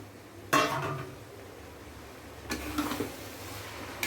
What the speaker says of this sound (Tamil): இப்போ வதங்கிக்கிட்டு இருக்க மசாலாவை நம்ம நல்லா கலரி கொடுத்துக்கலாம்